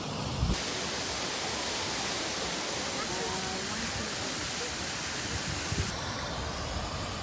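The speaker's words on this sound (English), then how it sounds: "Popular little waterfall." Steady roaring rush of a waterfall in Iceland, loud and continuous throughout, with faint voices barely audible beneath the constant water noise.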